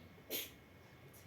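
A single short, faint sneeze bursts out during a Sunday church service, followed by quiet room tone and a softer breathy sound.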